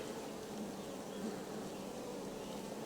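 Dense, steady buzzing of many honey bees fills the space, close and continuous without pause.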